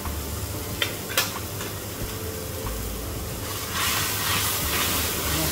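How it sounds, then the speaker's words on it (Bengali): Ground chili, coriander, turmeric, cumin and salt sizzle and hiss as they are stir-fried in a pan for an egg and luffa gourd curry, with a couple of scraping stirs early on and the sizzle growing louder toward the end. "মশলার কাঁচা স্মেলটা না যাওয়া পর্যন্ত সুন্দর করে এটা কষাতে থাকবো"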